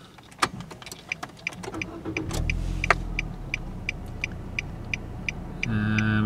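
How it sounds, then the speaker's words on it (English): Car being switched back on, with a run of electronic clicks and chimes, a low engine rumble catching and settling into a steady idle, then a rising hum near the end. "So I'm going to turn the car back on."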